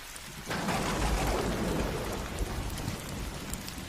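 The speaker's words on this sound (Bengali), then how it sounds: "হঠাৎ এরই মাঝে ঝমঝমিয়ে শুরু হলো মুষলধারে বৃষ্টি" Heavy downpour in a Bengali horror cartoon, set on a rainy night at a river bridge. A dense, steady hiss of rain starts abruptly and continues loud and unbroken, with a low rumble beneath it.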